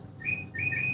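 A decoy bird attached to a bird-watching camera trap sends out two short, clear whistled chirps in quick succession, close and fairly loud over a faint background hum.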